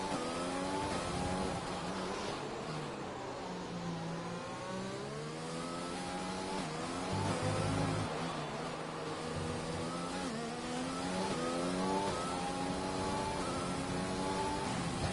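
Formula 1 race cars in an F1 video game at Mexico, several engines revving high as they exit the pits, a continuous loud whine with rising and shifting pitch, no talking.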